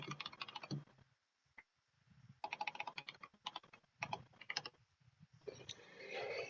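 Quiet typing on a computer keyboard, bursts of rapid close key clicks broken by short pauses, with a soft rustle at the end.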